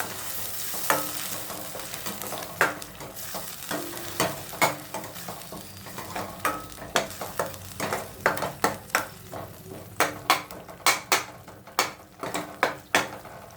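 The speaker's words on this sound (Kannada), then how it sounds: "2 ಆನಿಯನ್ನು ಪೇಸ್ಟ್ ಮಾಡಿ ಇಟ್ಕೊಂಡಿದ್ದೆ, ಅದು ಹಾಕ್ತೀನಿ ಈಗ. ಇದನ್ನು ಸ್ವಲ್ಪ ಚೆನ್ನಾಗಿ ಆಯಿಲ್ ಬಿಟ್ಕೊಳ್ಳೋ ತನಕ ಫ್ರೈ ಮಾಡಬೇಕು ಇದನ್ನು" Onion paste fries in oil for a chicken dish, a soft steady sizzle under repeated sharp scrapes and clinks of a spoon stirring against the pan, the stirring strokes growing more frequent and rhythmic toward the end.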